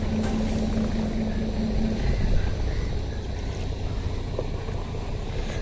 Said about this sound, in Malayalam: നമ്മൾ സ്റ്റേ ഉള്ള ഹൗസ് ബോട്ട് അതാണ് വരുന്നത്